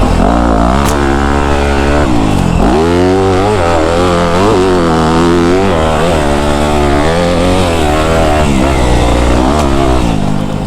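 A dirt bike engine revs and bogs as it rides through deep sand, loud and close throughout, with the pitch rising and falling as the throttle opens and closes.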